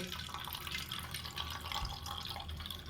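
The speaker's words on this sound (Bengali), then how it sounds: "জলটাকেও ছেঁকে দেখাচ্ছি কতটা পরিমাণে কালো" Water strained from soaked black urad lentils, dyed with added colour, pours and trickles steadily at close range, a continuous splashing liquid stream with no talking over it.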